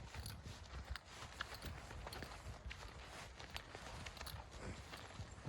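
Horses out for a walk, hooves clip-clopping in an irregular, continuous pattern over open ground, fairly close, with a steady outdoor background and no talk.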